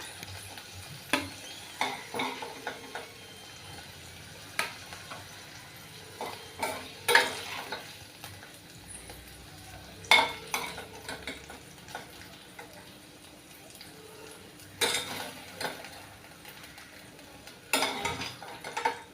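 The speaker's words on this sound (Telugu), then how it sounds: "వేగుతున్నాయి కొంచెం వేగాలి" Okra (bendakai) frying in oil in a kadai as a spatula stirs it: scattered scraping clinks and clatters against the pan over a faint sizzle, fairly quiet, with no talking.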